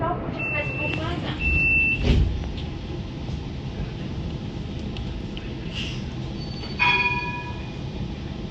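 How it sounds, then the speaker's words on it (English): An Adelaide tram runs between Rundle Mall and Festival Plaza with a steady low rumble of motion, a couple of short chime-like tones and a brief thump, while an announcement voice talks over it. "The next stop is Festival Plaza. This tram terminates here."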